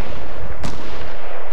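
Gunshots in the video game Fortnite, a single sharp report cracking out midway through a loud, dense rumble of game noise, no one talking.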